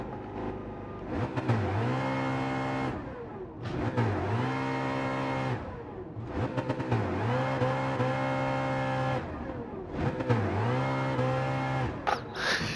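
A Ford Mustang GR3 race car in Gran Turismo 7 revs hard at a grid start, its engine note rising and falling in repeated loud surges, with a tire squeal and a brief click at the end.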